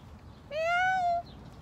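A single drawn-out cat meow, clear and fairly close, rising slightly then falling, over a low background hum.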